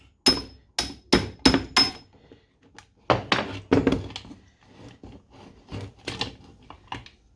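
Five quick, loud hammer strikes in a steady rhythm, a short pause, then a looser series of softer taps and knocks, close by with no talking.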